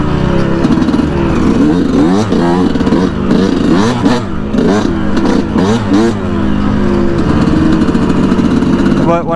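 A Yamaha YZ125 two-stroke dirt bike engine revs hard and loud close by, rising and falling in repeated throttle bursts between steadier running, with wind noise.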